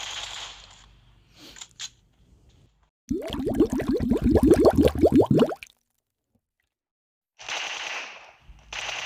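Rapid automatic gunfire in PUBG Mobile bursts out in a dense rattling volley for about two seconds, loud and close, framed by quieter in-game ambience and short faint clicks before and after.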